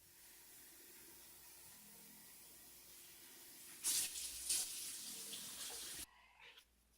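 Water poured into a green smoothie for mixing makes a steady rushing stream with a couple of brief splashy bursts before it cuts off near the end. It is fairly quiet and close, with no talking.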